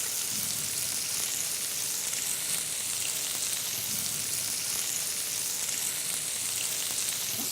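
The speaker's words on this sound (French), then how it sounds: "on va mettre les cuisses comme ceci à finir de cuire, et ça va me donner aussi le jus" Poultry legs frying in a pan to finish cooking, a steady dense sizzle and crackle of hot fat close up, continuous and even throughout with no voices.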